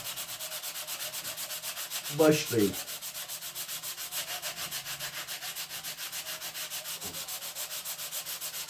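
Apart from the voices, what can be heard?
sanding puttied hull of wooden ship model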